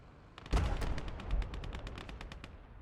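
A KV tank and infantry guns fire in a World War II battle in the game Gates of Hell: Ostfront, with a heavy opening blast followed by a long rapid string of close, loud gunshots.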